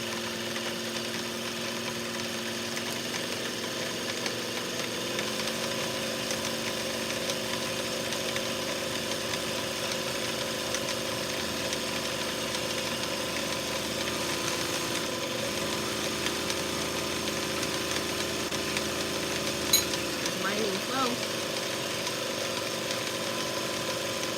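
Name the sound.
sewing machine winding a bobbin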